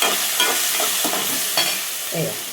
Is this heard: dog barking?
no